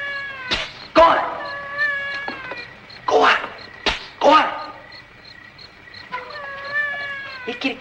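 A cat meows several times in drawn-out, wavering cries, close and fairly loud, with sharp thumps and a sneeze-like burst between them.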